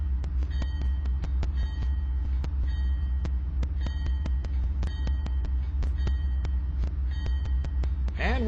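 A locomotive in a train simulator begins to move, a low steady engine rumble under repeated sharp clicks and clanks that continue through the whole stretch.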